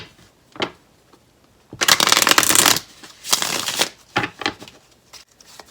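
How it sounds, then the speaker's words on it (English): Oracle cards being shuffled in two long riffling bursts, followed by a few shorter shuffles and taps, close and fairly loud with no talking. "I'm gonna go ahead and shuffle"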